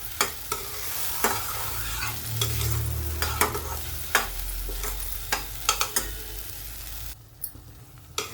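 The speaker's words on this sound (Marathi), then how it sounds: "आपली ही पेस्ट पूर्ण चांगली परतली तेल सुटेपर्यंत आपण परतून घेतलंय" Masala paste being fried and stirred in oil in a pan, with steady close sizzling under repeated sharp scrapes and clinks of a spoon against the pan, all without speech.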